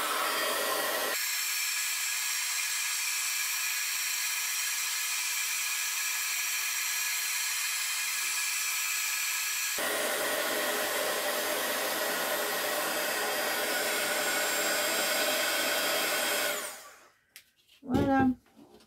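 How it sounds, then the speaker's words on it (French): A heat gun runs loud and steady for about sixteen seconds, melting embossing powder on a stencilled card for hot embossing, its airflow dropping briefly in the middle, then cutting off and followed by a few faint handling knocks. "Et maintenant, avec mon heat gun, eh ben, je vais faire mon embossage."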